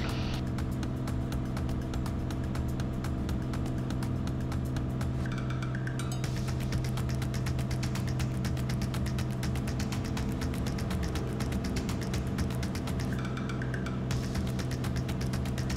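Cessna TTX piston engine roars at takeoff power, a steady loud drone with a rapid ticking pulse running throughout the take-off roll, heard from inside the cockpit.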